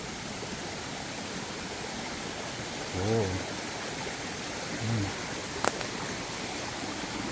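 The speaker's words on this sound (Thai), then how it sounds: "อยู่กับธรรมชาติเลยนะครับน้ำตกนะครับ" Steady rushing water from a nearby stream or waterfall fills the scene, with a couple of faint voices briefly rising above it.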